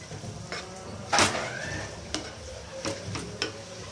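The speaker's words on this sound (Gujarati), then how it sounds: "અત્યારે હું લીલી ડુંગળી એડ કરું છું" Green onions stirred in a pan, soft sizzle under scraping spoon strokes, a few sharp clinks against the pan, fairly quiet and close.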